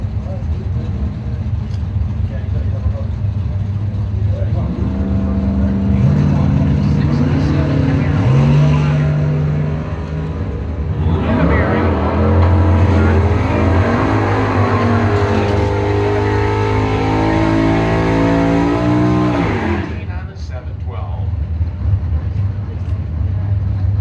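A 1967 Camaro and another bracket car launch and run down a drag strip at a Mopar drag racing event, engines roaring loudly and rising in pitch over about fifteen seconds as an announcer talks throughout.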